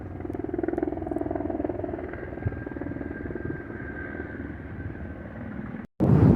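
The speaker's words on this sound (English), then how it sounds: "There's a police helicopter right there." A police helicopter drones steadily overhead, a low throbbing rotor hum mixed with wind noise, before a sudden loud burst of wind buffeting at the end.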